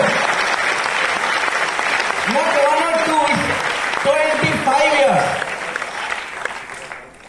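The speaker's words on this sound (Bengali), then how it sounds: "25 ইয়ার স্মার্ট ভ্যালু সেলিব্রেট করতে হবে জোরদার হাততালি কোম্পানির জন্য।" Loud, sustained applause from a large crowd at a company's 25th-anniversary recognition event, continuing under a voice speaking over a microphone and fading toward the end.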